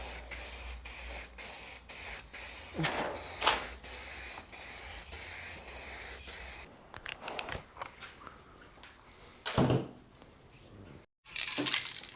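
Tint coat is sprayed from a can onto vehicle taillights in a quick series of close, hissing bursts, followed by a few longer sprays after a short pause.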